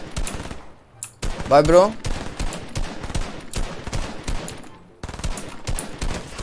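Rapid automatic gunfire in Fortnite comes in dense, repeated bursts across the whole stretch, loud and close, with a short pause near the five-second mark and Italian-speaking players talking over it.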